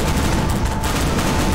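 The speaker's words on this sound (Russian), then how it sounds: "Под водой взрывается" Meteors plunge into water in Garry's Mod, setting off a continuous, loud roar of rumbling underwater explosions that blend into one dense, crackling barrage with no pauses.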